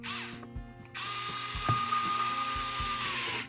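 A 1.5 hex driver turns screws into a DJI Agras T50/T40 remote controller, giving close, rapid ratcheting clicks in short bursts, with faint knocks and handling noise between them and no talking.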